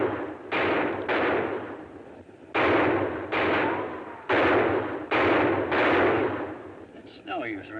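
Gunfire in a 1950s Western radio-style drama with a ranger pinned below a ridge: a string of loud, booming rifle shots in uneven succession, each with a long echoing tail, and a voice briefly between them.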